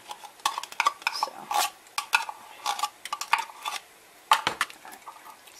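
Spoon stirring tomato paste into pasta sauce in a pot, with irregular close scraping and clinking against the pot sides, steady bursts with one short pause.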